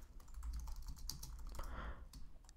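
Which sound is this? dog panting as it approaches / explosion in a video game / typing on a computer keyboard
typing on a computer keyboard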